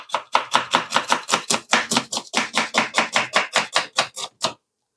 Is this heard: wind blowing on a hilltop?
no